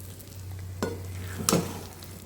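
A spoon stirs vegetable chop filling with fried peanuts in a pan, two distinct scraping strokes over a low, steady background hum, fairly quiet.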